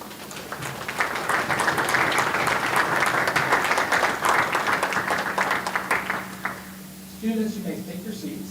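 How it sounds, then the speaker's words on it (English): Audience applause at a National Technical Honor Society induction ceremony: sustained clapping from a seated crowd that fades out after about seven seconds, followed by a low hum and faint movement. "Please join us in welcoming them with a round of applause."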